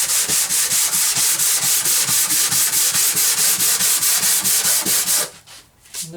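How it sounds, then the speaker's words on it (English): A sanding block wrapped in sandpaper rubs back and forth over wood in fast, even strokes, a close, steady rasping rhythm that stops near the end, leaving quiet handling noise. "now I've got my sanding block, I've got my sandpaper"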